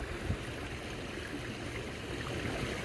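Rainwater from a garden pond pours steadily over the spillway, a continuous close rushing trickle with no voices.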